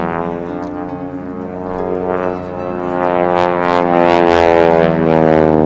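An airshow plane powered by a Pratt & Whitney R985 radial engine drones loudly and steadily nearby, its rich harmonic hum swelling slightly toward the end.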